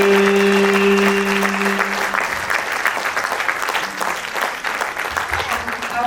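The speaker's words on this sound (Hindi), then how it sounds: "आप सभी की तालियों के बीच में वेलकम करना चाहूंगी" An annual school function audience claps continuously, a dense, steady applause heard alone after a held musical tone fades out in the first two seconds.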